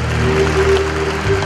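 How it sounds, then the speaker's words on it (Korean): Audience applause at an outdoor Korean 800th-anniversary commemoration ceremony, a loud, dense, continuous roar of clapping over a steady background hum and tones, holding level throughout. "다시 한번 여러분 따뜻한 박수 부탁드리겠습니다."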